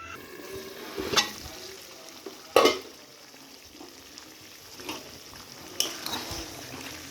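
Potatoes and chicken being stirred with ground spice paste in a pan for potato chicken curry: soft, moderate frying hiss under a few distinct scraping clinks of a spoon against the pan, irregularly spaced.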